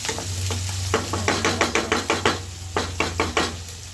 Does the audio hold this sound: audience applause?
no